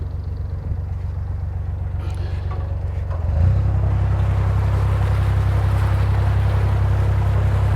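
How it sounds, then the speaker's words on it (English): A canal boat engine chugs steadily on the River Soar, growing louder midway as the vessel draws close, with water churning underneath. "just as you get ready to go, a boat starts coming in"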